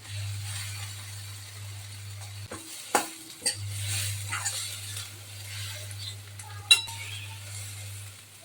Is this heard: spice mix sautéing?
yes